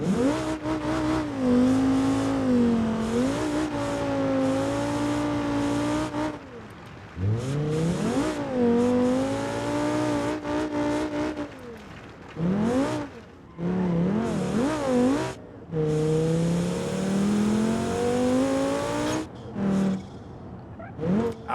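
A turbocharged ETK inline-five engine in BeamNG.drive revs hard again and again, its pitch climbing through long pulls with brief drops between shifts. It sounds loud and close, with no talking over it.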